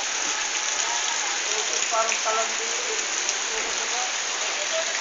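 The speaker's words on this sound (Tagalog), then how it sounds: "malakas po ulan dito" Dense, steady rain pours down hard and continuously, a loud wash of noise with faint voices barely audible beneath it.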